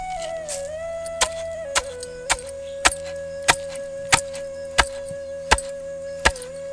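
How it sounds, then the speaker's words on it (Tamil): Sorghum grain pounded with a pestle in a traditional stone mortar: about ten sharp, evenly spaced thuds roughly every half second, close and fairly loud over a steady background hum. "சோளத்தை நல்லா அரிச்சு எடுத்துக்கிட்டு அதை இப்ப உரல்ல போட்டு குத்த ஆரம்பிச்சிடலாம்"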